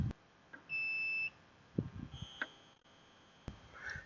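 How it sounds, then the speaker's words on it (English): A short electronic beep sounds once from an Aiper Seagull SE robotic pool cleaner being switched on, followed by faint clicks and handling noises in a quiet room, with another small chirp near the end. "You can hear it beep, and all the lights have turned blue."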